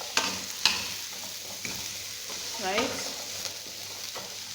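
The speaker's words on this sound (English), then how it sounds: "So I'll keep on stirring nicely until all the ingredients are in sync with each other." Stir-fried mixed vegetables sizzle in a pan while a utensil scrapes and taps against it, a few sharp clicks over a soft steady frying hiss, close and quiet, with a brief spoken word.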